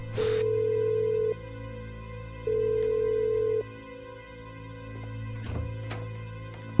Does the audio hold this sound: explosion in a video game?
no